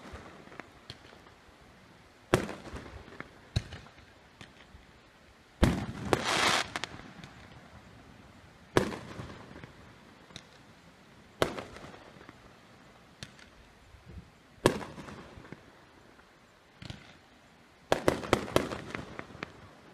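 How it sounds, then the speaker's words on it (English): Fireworks going off at night on a beach pop and crack in scattered bursts, about a dozen sharp reports spread out over time, some with crackling tails, at a moderate distance with quiet gaps between. "You always got somebody shooting off fireworks and stuff."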